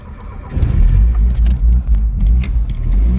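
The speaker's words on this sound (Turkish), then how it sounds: "Arabanın sesi değişti arkadaşlar" A Tofaş Şahin car engine rumbles steadily at close range, low and continuous, with small surges in loudness and a few faint clicks on top.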